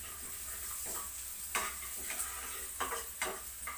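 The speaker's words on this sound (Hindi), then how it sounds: "हरे लहसुन को हल्का सा भूना जाता है" Soft sizzling of green garlic frying lightly in a pan, with occasional scraping stirs and clinks of a utensil against the pan.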